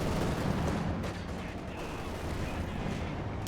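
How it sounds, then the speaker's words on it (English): A Panther tank cannon firing in the World War II strategy game Company of Heroes 2, a booming shot with rumbling low-end tail amid dense background battle noise. "Rifle needs off there, Panther 4 misses."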